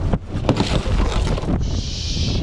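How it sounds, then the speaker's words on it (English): Strong gusts of wind buffet the microphone with a low, rumbling roar, joined near the end by a steady hiss. "This is going to be windy."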